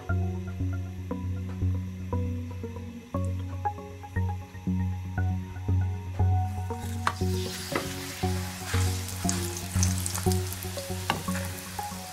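Aloo paratha, a potato-stuffed flatbread, frying in oil in a pan, a steady crackling sizzle with repeated scraping and stirring taps; the sizzle grows brighter and louder partway through, with no talking.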